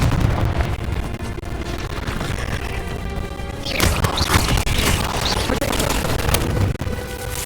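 Confringo explosion spell blasts in Hogwarts Legacy, a loud burst at the middle followed by crackling debris amid dense game noise and music.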